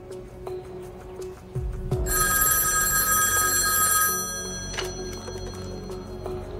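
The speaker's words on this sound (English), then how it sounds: "Always answer the phone if it rings." An old-style telephone bell rings loudly and close for about two seconds, a bright sustained metallic jangle that cuts off abruptly, surrounded by quiet ticking.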